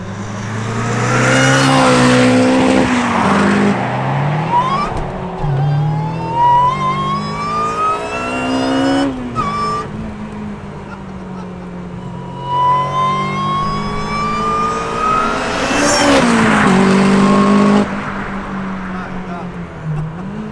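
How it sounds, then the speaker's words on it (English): A loud supercharged Honda Civic Type R K20 engine in a Lotus Elise accelerates from close inside the car, its pitch climbing and dropping with each gear change over a continuous rough drone, with an exhaust rattle. "you hear the rattle. It's from the exhaust system that goes up to the roll cage."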